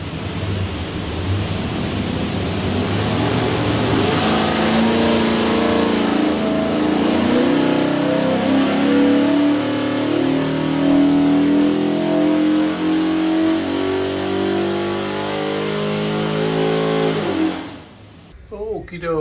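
A 347 stroker V8 engine in a '65 Mustang roars on a dyno, holding a loud, steady revving pull that climbs for about seventeen seconds before cutting off abruptly.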